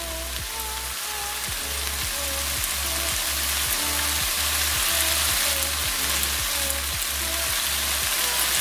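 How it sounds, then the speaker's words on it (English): Lamb and rice sizzling steadily in a hot pan, a constant bright frying hiss with a faint rhythmic scraping or stirring pulse underneath, close and even throughout with no talk. "add the lamb back into the pan and bring it all back up to heat"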